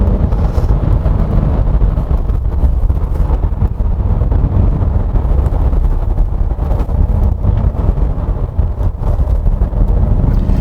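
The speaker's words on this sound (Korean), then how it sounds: "디젤 엔진 치고는 이렇게 회전수를 올려갑니다." A loud, continuous engine roar builds as a 2020 Kia Mohave V6 diesel SUV revs hard in sport mode on a winding road, with heavy rumble and wind noise throughout and no voices.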